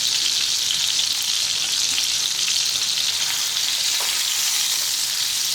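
Tomatoes fry in a covered pan for tomato chutney, giving a steady, close, bright sizzle that holds at an even level throughout, with no voices over it.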